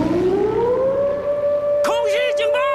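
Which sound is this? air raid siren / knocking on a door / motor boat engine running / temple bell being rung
air raid siren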